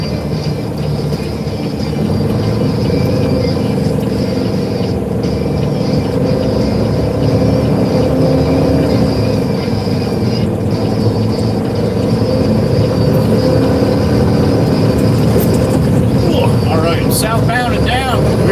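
An empty dump truck heading out to pick up a load of crushed, broken concrete gives a steady, loud engine and road rumble heard from inside the cab, continuous throughout with no pauses.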